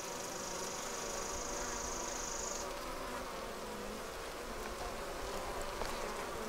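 Honey bees buzz steadily inside a hive holding a newly laying queen, a dense continuous drone close by with no talk over it.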